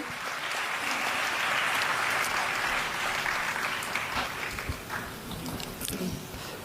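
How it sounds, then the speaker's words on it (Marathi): An audience claps steadily at a lamp-lighting ceremony, a dense, sustained wash of applause that thins slightly toward the end, heard alone without talk. "जोरदार टाळ्या झाल्या पाहिजे"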